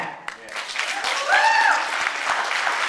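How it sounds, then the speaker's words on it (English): Audience applause at a debate battle event, steady dense clapping building and holding, with a voice and a whistle-like cheer rising over it. "Round of applause for that."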